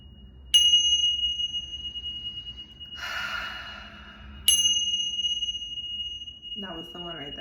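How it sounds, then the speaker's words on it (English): Two bright metallic bell strikes, each ringing out clearly and decaying slowly, spaced about four seconds apart, with breathy rustling between them and a voice starting at the end. "we're gonna ring some bells"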